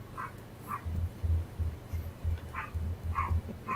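A small dog, the littlest of a household's dogs, lets out several short, sharp yips at uneven intervals, fairly faint and a little distant, over a low rumbling background.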